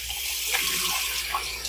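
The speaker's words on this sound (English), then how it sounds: "I'm going to rinse my hands again." A kitchen tap runs steadily while hands are rinsed after handling garlic for sauerkraut, a close, continuous splash of water with no talking.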